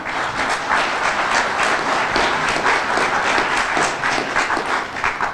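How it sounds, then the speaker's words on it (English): A crowd applauds distinguished community leaders at a neighborhood grant event, steady dense clapping from many hands filling the room for several seconds without pause. "Let's give them a round of applause, please."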